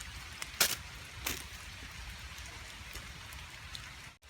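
Heavy rain patters steadily close by in a forest, with a few louder drops or splashes near the start.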